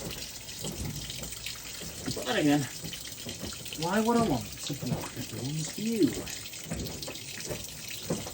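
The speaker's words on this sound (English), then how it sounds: "Because you want to see the water level rise, don't you?" Water runs steadily into a Whirlpool Ultimate Care II top-load washing machine as it fills on a heavy cycle, a constant rushing flow under someone talking throughout.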